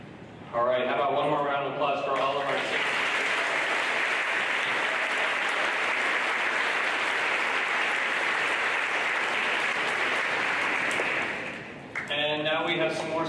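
Loud, sustained audience applause for students at an eighth grade celebration fills most of the clip, with a person speaking briefly before it starts and again as it ends.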